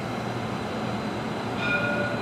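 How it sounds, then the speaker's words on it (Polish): An Alicante L1 tram rumbles steadily at a stop, with a faint high squeal of wheels near the end and no voices. "I oto mój tramwaj."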